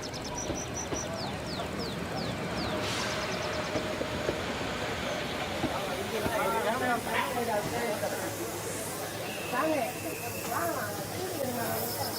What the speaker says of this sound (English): As the train comes in